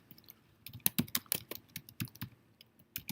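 Typing on a computer keyboard while entering a label into a spreadsheet, close and quiet, with a quick uneven run of crisp key clicks and a few scattered taps.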